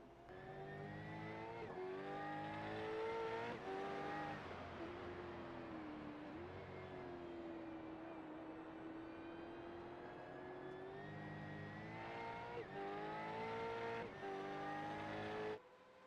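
Race cars roar around Watkins Glen in the iRacing sim, engines revving and downshifting in rising and falling tones as a pack of stock-car-style Camaros and Mustangs brakes and accelerates through corners, loud and continuous.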